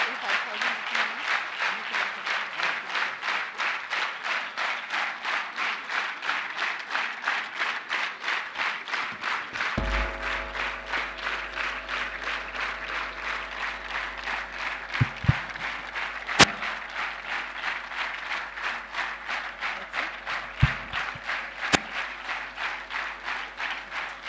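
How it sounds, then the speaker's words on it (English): An audience in an HR event hall gives sustained applause with steady rhythmic clapping throughout, joined partway by a low hum and a few sharp thumps. "huge round of applause."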